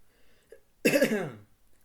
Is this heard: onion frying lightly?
no